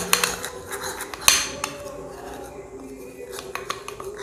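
A milk and rice flour face pack is stirred in a bowl, and a spoon clinks and scrapes against the bowl in quick, light, uneven taps. The mixing is fairly quiet and close, with a sharper knock partway through.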